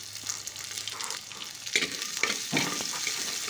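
Garlic and onions sauté in a pan for a Tamil chapati kuzhambu, with a steady close sizzle and crackle that swells with occasional stirring bursts, no voices.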